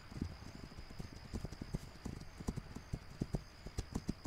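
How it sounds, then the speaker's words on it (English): Horse hooves clip-clop in a video game, a quick, irregular run of hoofbeats at moderate volume with no voices over them. "Ah, where's my horse?"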